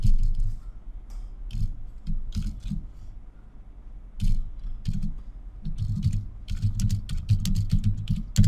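Typing on a computer keyboard while writing JavaScript code, irregular bursts of soft key clicks with short pauses, close-up and with no talking.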